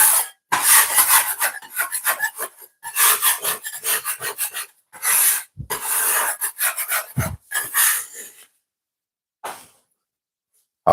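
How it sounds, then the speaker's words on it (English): Rasping scrapes on a cooking surface while making gluten-free plantain flatbread, a series of loud rhythmic strokes in bursts with short pauses, fading out near the end. "I'm gonna give it here a bit of scrape now."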